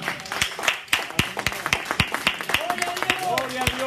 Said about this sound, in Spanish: Regálele palmas fuertes al Señor